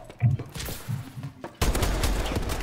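Gunfire in the video game Call of Duty Advanced Warfare, scattered shots and muffled game effects at first, then a sudden loud, dense burst of rapid firing that keeps going.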